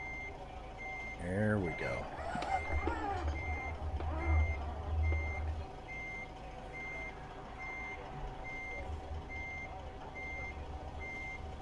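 Reversing beeps from a truck in American Truck Simulator, a steady repeating warning tone, with engine rumble below and someone talking briefly over it.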